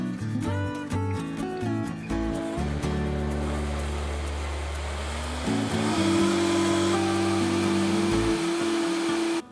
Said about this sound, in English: 2 cups tomato sauce. Blend on high.